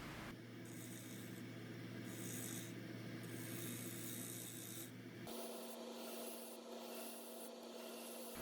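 A bowl gouge makes pull cuts while hollowing a tall live-edge maple bowl on a lathe, giving a steady rubbing scrape over a constant motor hum whose pitch shifts partway through.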